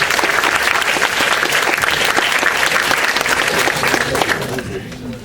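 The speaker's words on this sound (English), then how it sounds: "Round of applause." An audience at a technology conference breaks into applause after a speaker's talk: sustained, fairly loud clapping from many hands that tapers off toward the end, with a voice briefly audible under it.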